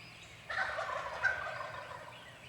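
A wild turkey gobbler calls once in a rapid rattling gobble from somewhere in the trees, at mid distance in an open spring woodland during Ohio turkey season, with a second gobble following, and no talk.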